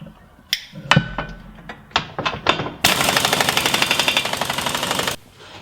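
A self-tapping bolt is driven into a Jeep Cherokee XJ frame with a power tool, several sharp metallic knocks and short bursts, then a loud sustained rapid hammering rattle for about two seconds before stopping, close by.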